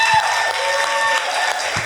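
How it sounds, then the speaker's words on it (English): Applause rings out at a wedding reception, a steady wash of clapping hands that holds for about two seconds at fairly close range, with no talk over it. "So round of applause"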